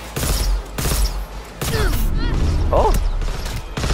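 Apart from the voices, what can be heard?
smart gun firing rapidly in video game Cyberpunk 2077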